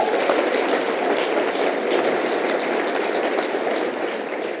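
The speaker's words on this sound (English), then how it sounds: "So give that a big round of applause." Big round of applause from an audience at a motivational pitch speech, steady dense clapping sustained loudly throughout without talk.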